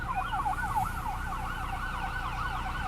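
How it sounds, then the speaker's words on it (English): Emergency vehicle sirens wail outside near a 2016 Chevrolet Equinox, a steady rising-and-falling tone that carries loudly through the whole stretch over low road rumble. "I apologize for the sirens"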